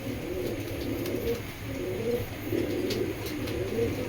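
Young racing pigeons coo in soft, repeated throaty phrases at a relaxed rhythm, fairly close, over a low background hum.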